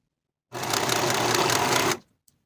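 A sewing machine finishes the short, straight, notched edge of a denim coin pocket piece in one steady, fast run of about a second and a half, close and fairly loud, then stops, with no talking.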